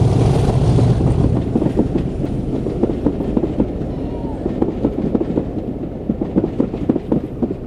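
A Class 50 diesel locomotive hauls a train across Corfe Common on the Swanage Railway, a low diesel drone and rhythmic rail clatter, loud at first then continuing at a moderate distance.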